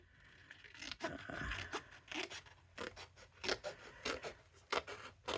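Repeated crisp snips of Tim Holtz scissors cutting through paper, close up, in an uneven rhythm of quick cuts with short pauses, no voices.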